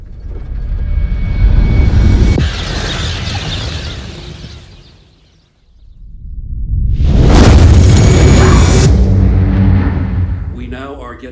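A huge explosion boom in the trailer for the disaster film Greenland, a comet fragment striking Central Florida: a deep, loud rumbling roar swells, cuts to near silence, then a second massive blast surges and fades under dramatic score.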